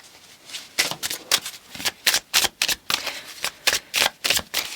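A deck of oracle cards is shuffled in quick, crisp bursts, a dozen or so riffling snaps in an irregular rhythm, close and clear with no talking.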